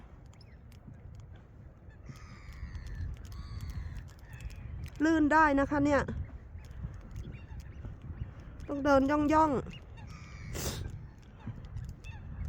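Two short bursts of loud, nasal duck calls rise over steady outdoor noise by a river bridge, while someone talks nearby between them.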